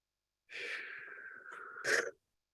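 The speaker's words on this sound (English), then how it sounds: "Everyone take the deep breath." Audience in a talk hall taking a deep breath together, a long broad breathy inhale of about a second and a half ending in a brief stronger swell, then quiet.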